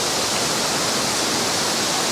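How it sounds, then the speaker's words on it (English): The highest waterfall at Ricketts Glen State Park thunders nearby as a loud, dense, unbroken roar of falling water, with no voices. "This is definitely like the highest waterfall we've seen."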